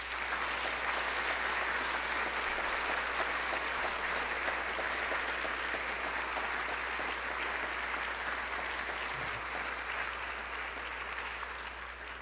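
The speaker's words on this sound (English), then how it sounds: "join me in another round of applause" Sustained, dense applause from a large lecture audience, steady and loud throughout, tapering slightly toward the end.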